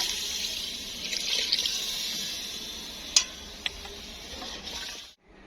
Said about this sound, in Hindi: अब जो है ना पानी ऐड हो रहा है।